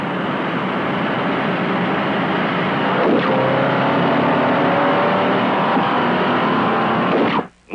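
Two 1963 full-size sedans, a Chevrolet Impala and a Ford Galaxie, roar together in a steady loud engine drone, pitch climbing as they accelerate from 50 mph, ending with a brief sharp drop.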